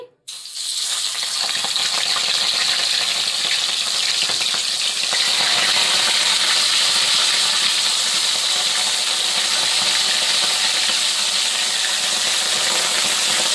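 Rohu fish pieces frying in hot oil, starting from a brief quiet moment and jumping into a loud, steady, close hiss and crackle that holds unbroken throughout.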